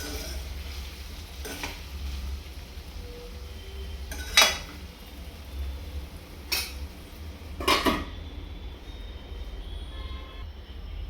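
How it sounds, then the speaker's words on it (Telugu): Potato fry being stirred in a pan for a spicy potato dish, with a few sharp utensil scrapes against the pan at irregular intervals over a low steady background hum. "అడుగంటకుండా మధ్య మధ్యలో కలుపుతూనే ఉండాలి."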